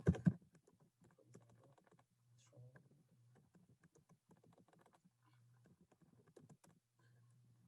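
Typing on a computer keyboard while filling in a university application form: soft, close keystrokes in steady irregular runs with short pauses, over a faint low hum.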